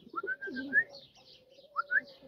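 A pigeon coos softly up close, with a low throaty warble and scattered short chirpy notes from birds nearby, no speech.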